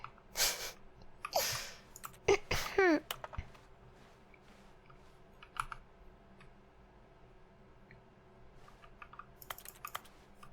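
Rapid keyboard clicking heard during a Stanley Parable: Ultra Deluxe game stream, a few bursts of keystrokes early on, then sparse scattered clicks, fairly faint, with no talk.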